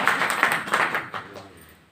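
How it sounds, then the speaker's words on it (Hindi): An audience at a Brahma Kumaris New Year 2022 gathering claps in a brief, moderate burst that fades away within two seconds. "ताली बजाओ।"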